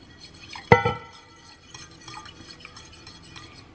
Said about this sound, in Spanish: Le seguimos meneando.